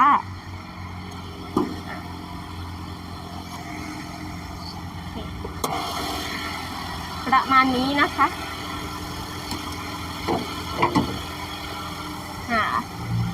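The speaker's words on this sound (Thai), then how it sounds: "จะสตาร์ทให้ฟังเสียงเครื่องนะคะ" A 2011 Toyota Yaris 1.5 E engine runs at a steady idle up close, with a continuous low drone. Someone speaks briefly over it.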